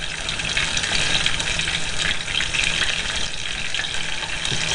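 Homemade bacon sizzles and crackles steadily in a frying pan, a loud, continuous hiss with no talking.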